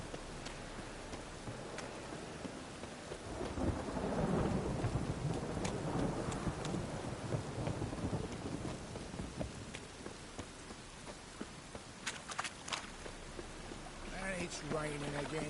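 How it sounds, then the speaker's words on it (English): Steady rain in a Witcher video game hisses throughout, swelling louder in the middle with a low rumble, and a few brief sharp sounds near the end. "And it's raining again."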